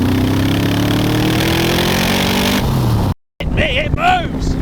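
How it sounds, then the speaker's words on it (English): A 400 hp Chevy-powered AC Cobra Dax 427 rumbles through its side exhausts, a deep idle that climbs slightly for about three seconds. Then the sound cuts out briefly and a voice follows. "This car also has some pretty tasty side-X exhausts that sound a bit like this."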